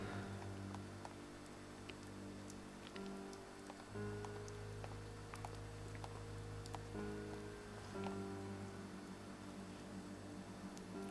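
Faint continuous rainfall from the video game Raidou Kuzunoha vs The Soulless Army, a gentle hiss with scattered drop taps beneath quiet droning background music.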